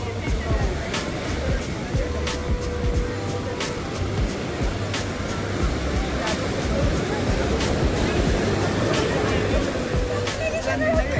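Steady rush of sea waves and surf at Marina Beach in Chennai, continuous and fairly loud, with people chatting and crowd babble mixed in throughout.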